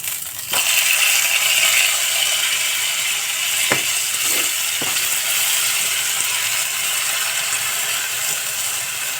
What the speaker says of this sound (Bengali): মশলাটা একটু ফ্রাই হবে, একটু হলুদ গুঁড়ো দিয়ে দিলাম।